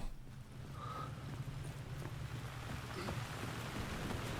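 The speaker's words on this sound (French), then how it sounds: "OMG il pleut." Rain in the video game Alan Wake 2, a faint, steady hiss of falling rain with a low rumble beneath, continuous throughout.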